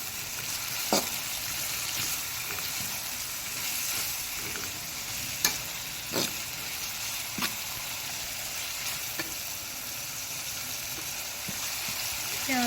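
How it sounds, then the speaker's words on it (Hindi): Onions frying in a pan for beef qeema karahi, a steady close sizzle with occasional stirring clicks and scrapes throughout. "प्याज को अच्छी तरह से फ्राई करेंगे"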